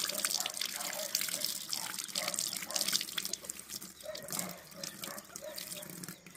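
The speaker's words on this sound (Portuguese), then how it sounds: "Por isso a necessidade de se lavar bem." Tap water running steadily over a pododermatitis wound on a foot, with splashing and dripping close by, continuous and fairly loud throughout.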